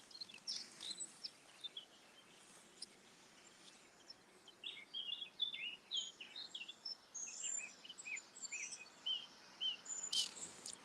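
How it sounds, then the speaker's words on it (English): Birds sing in a wood, giving a chorus of scattered high chirps and trills at moderate distance. The calls come in quick irregular bursts over quiet background hiss, with no talking. "All those birds."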